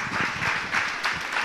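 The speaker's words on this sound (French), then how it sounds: "Je vais vous demander de les applaudir" Steady, moderately soft applause fills a conference hall on noise pollution in Grenoble as the audience thanks the speakers, a dense even patter of many hands without talk.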